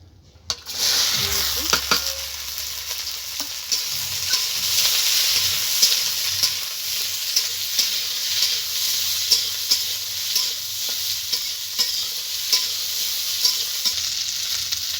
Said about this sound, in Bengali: বন্ধুরা এবার কেটে রাখা সবজিগুলো আমি একসঙ্গেই ভেজে নেব। গাজর আর বিনস